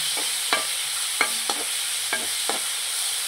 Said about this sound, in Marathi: आता आपण हा जो टोमॅटो बारीक करून घेतलेला तो टाकून चांगलं हलवून घ्यायचं